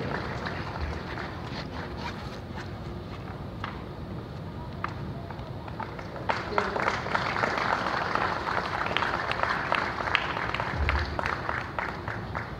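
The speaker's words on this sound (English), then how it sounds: "let me hear a huge round of applause" A large crowd at an awards ceremony claps steadily in a dense, continuous wash of applause, with a few louder claps and faint voices mixed in.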